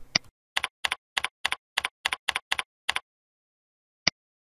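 Search text being typed on a computer keyboard: about ten crisp, evenly spaced keystrokes in a quick burst, then a pause and one final key press, close and clear with no talk.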